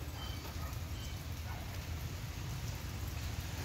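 Steady, dense rainfall hisses continuously, an even wash of drops with no pauses.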